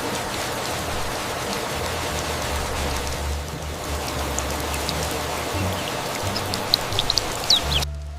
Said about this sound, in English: Oh no! Rain? Just my luck!